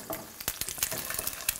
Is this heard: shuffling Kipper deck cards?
no